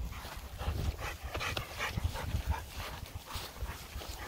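Dogs at a dog park, several short yips, whimpers and barks scattered over outdoor background noise, moderately close and faint.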